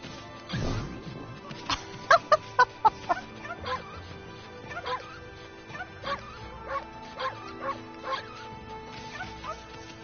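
A dog in the video game Okami HD barks in a string of short, sharp yips and woofs, spaced irregularly across the stretch over game music and effects, with a speaking voice now and then.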